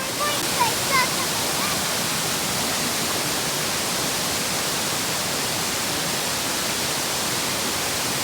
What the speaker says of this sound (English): we would like to just show you a few clips of this beautiful rainforest and the waterfalls there.